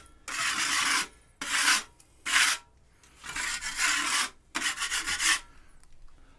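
Metal tool scraping across soft plaster in six separate rough strokes, harsh close rasping bursts with short pauses between them.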